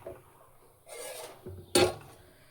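A cover set over a pot of hot water holding a tiffin carrier: a soft scrape, then one sharp, close metallic clank of metal on metal.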